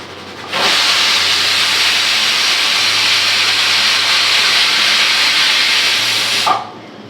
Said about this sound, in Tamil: ஒரு விசில் வந்துருச்சு.